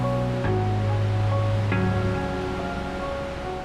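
A glacial river in Iceland rushes in a loud, continuous roar of water. Faint steady tones sit underneath the torrent.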